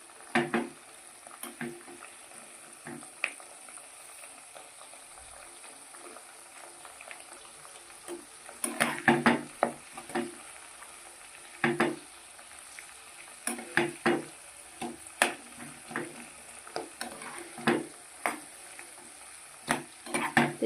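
Homemade hair-loss oil simmers on a low gas flame in a pan, a faint steady bubbling hiss broken by repeated scraping stir strokes that grow busier and more frequent in the second half.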